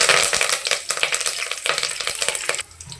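Chana dal and peanuts frying in hot oil in a pan, a loud, steady crackling sizzle with stirring scrapes that eases off at the end.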